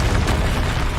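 A Confringo fire spell bursting in Hogwarts Legacy, a loud, close explosive blast with a thick roaring rush that holds steady throughout.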